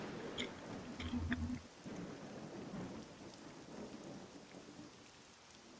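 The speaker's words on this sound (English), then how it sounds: "Oh, the rain! The great rain!" Rain pours steadily in the Dragon Quest 7 video game, with a deep rumble of thunder early on, then a continuous soft hiss of rainfall; a brief voice is heard.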